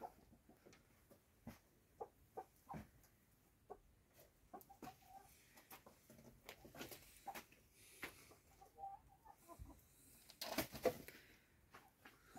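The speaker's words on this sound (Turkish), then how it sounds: "yanımızda işte horozumuz da uğradı" Rooster on a village farm clucking in short, scattered bursts over about twelve seconds, fairly close but quiet, with occasional louder calls near the end and no talking.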